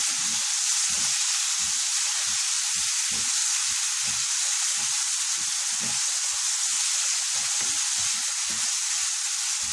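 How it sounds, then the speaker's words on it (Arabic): A constant bright sizzle of onions frying in a pan for chicken with onions and pasta, with regular low scraping and knocking strokes as the onions are stirred, close and without talk. "حرك البصلة، تفضل معانا البصلة."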